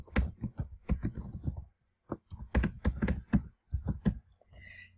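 Keystrokes on a computer keyboard come in quick irregular bursts of sharp clicks with short pauses, close and clear while data is entered into spreadsheet cells.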